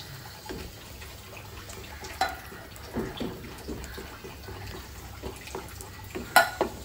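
Masvadi batter being stirred in a pan over low gas, a spoon scraping and clinking against the metal in soft, irregular strokes, with a sharper knock near the end and no talk.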